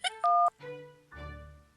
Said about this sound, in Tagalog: Uy, tumatawag na si Lloyd.